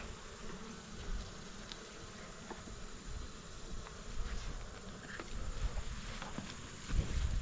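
A steady, dense hum of many honeybees buzzing in an opened hive in Kentucky, continuous and fairly close, with occasional individual bees passing louder over the drone.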